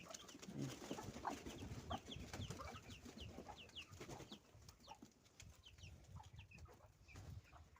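Chickens and chicks chirp and cluck in a village farmyard as chicks are let out, with many short high peeping calls scattered throughout at moderate, steady loudness.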